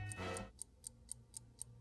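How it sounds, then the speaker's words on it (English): Steady ticking like a clock or time bomb, supposedly coming from a cupcake, sharp evenly spaced clicks about four per second, close and clear after a brief burst of louder noise at the start. "Is the cupcake ticking?"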